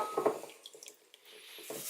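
Tomato soup, a canned Baxter's Italian tomato variety, poured out: a short, soft wet slosh followed by faint drips and light clinks, fairly quiet.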